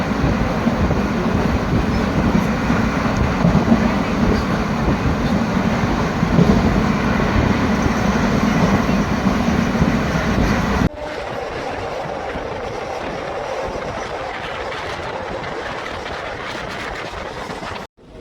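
Passenger train running on the line from Tirur to Kozhikode in Kerala, a loud, continuous rumble with rhythmic clickety-clack from the wheels, heard from inside the coach, shifting to a quieter tone near the end.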